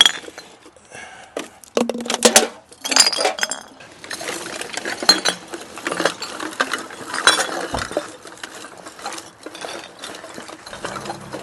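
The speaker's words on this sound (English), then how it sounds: "It's always awkward trying to dump out glass in here." Glass bottles and lake debris tumble out of a bag, a burst of clinking and clattering glass followed by scattered knocks and shuffling rattles, close and fairly loud, with no talk.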